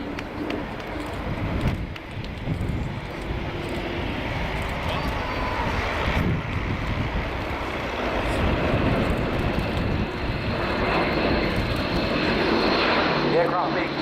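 An Airbus A400M military transport aircraft roars through a tight 360-degree orbit at a flying display, its propeller engines droning loud and steady while a commentator talks over the noise.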